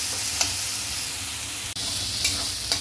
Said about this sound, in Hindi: इसी में सारा मसाला डाल के अच्छी तरह से भूनना है जब तक तेल ना छोड़ दे